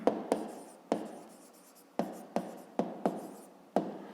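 Pen writing out the solution to a fifth-grade maths exercise on counting matchsticks and squares, heard alone as a series of sharp tapping strokes and scratches at an uneven rhythm, close and fairly quiet.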